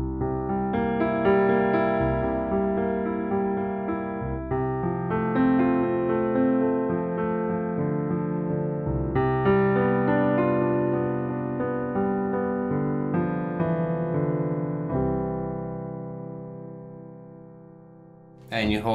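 Piano playing the last four measures of Bach's Prelude in C, steady arpeggiated broken chords in even rhythm, close and moderately loud, ending on a long held final chord with no talking over it.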